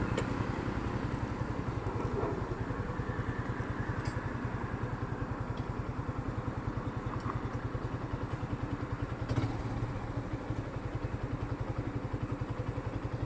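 Modified motorcycles in traffic: a steady, rapid engine putter runs throughout at moderate distance, with faint clatter and passing vehicle noise around it.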